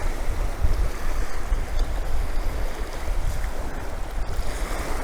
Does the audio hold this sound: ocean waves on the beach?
yes